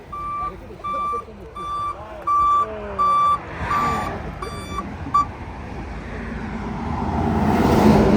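Tow truck reversing, its backup alarm giving about seven evenly spaced high beeps over a rumbling engine, with people talking nearby and traffic swelling louder toward the end.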